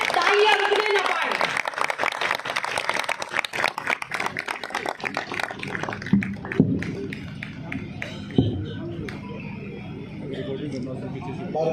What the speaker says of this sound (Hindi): जोरदार करतब ध्वनि से इस पंडाल में तालियां रुकने न पाए।